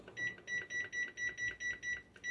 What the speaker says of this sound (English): I'm going to go ahead and set the timer